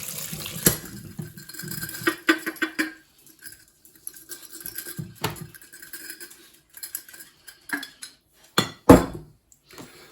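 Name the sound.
sloe gin being filtered through a sieve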